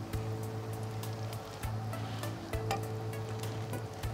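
Bread snacks deep-frying in hot oil at a food-fair stall, a continuous fizzing sizzle with tiny popping bursts, while a low steady hum runs underneath; no one speaks.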